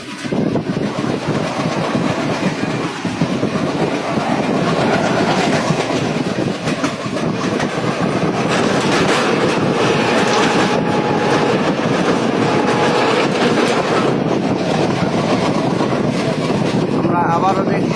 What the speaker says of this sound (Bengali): আমরা আবারও দেখছি ট্রেনটা ঘুরে চলেছে।